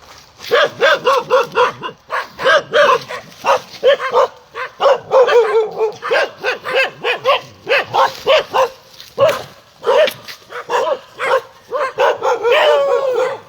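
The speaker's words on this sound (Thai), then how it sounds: "หมามารบกวน" A dog barks close by again and again, a steady run of sharp barks and higher yips with short whimpering sounds between them, continuing for the whole stretch.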